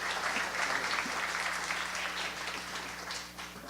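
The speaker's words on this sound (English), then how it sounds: "So we should give him a big round of applause as he comes." An audience at a welcome session for a panel event applauds, a dense, steady patter of clapping heard from within the room that fades slightly at the end.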